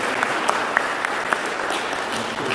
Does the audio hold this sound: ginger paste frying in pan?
no